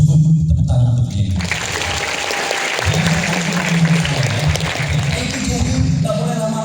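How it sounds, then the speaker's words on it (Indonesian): An audience at a national seminar gives sustained applause, a dense wash of clapping close by, with talking heard beneath it at the start and end. "Cukup tepuk tangan untuk Jenny."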